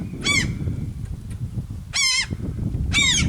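Gulls nesting on a house roof give three loud, harsh calls, each a quick run of strained, laughing notes, spaced about a second apart over a low rumble of background noise.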